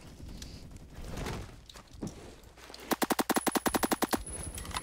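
A carbine rifle fires in a video game, a quick steady string of about fifteen evenly spaced shots, close and crisp, after a few seconds of quieter rustling and movement.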